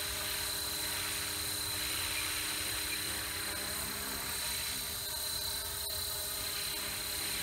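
A Blade Fusion 360 radio-controlled helicopter flies nearby, its rotor and motor producing a constant high whine and buzzing drone that holds steady for several seconds with slight swells in intensity.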